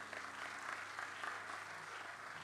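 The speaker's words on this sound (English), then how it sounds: "A huge round of applause for Professor Ravi Raja Sitharaman." An audience at a national scientists' round table conference applauds a speaker, a quiet, steady patter of many hands clapping heard from a distance.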